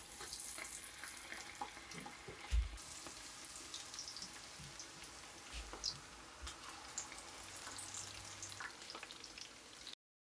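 Battered, marinated chicken deep frying in hot oil over a medium flame, a steady close sizzle and hiss with occasional small pops and spatters, no voices.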